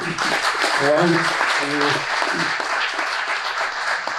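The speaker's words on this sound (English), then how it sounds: "So how about also a round of applause for them as well." Applause at a Genesis Bank Institute of Entrepreneurship launch event, a steady crowd wash of clapping throughout, with a voice speaking over it near the start.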